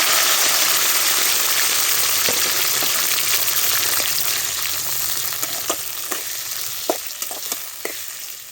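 Cut tomatoes fry in a pan for Telugu tomato chutney with a loud, close, continuous sizzle. Sharp pops and crackles appear as the juices spatter, and the hiss eases off a little toward the end.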